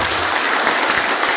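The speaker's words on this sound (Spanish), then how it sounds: "¡Fuertes los aplausos!" An audience at a municipal event in Tacaná applauds a visiting education minister, with steady, dense clapping throughout.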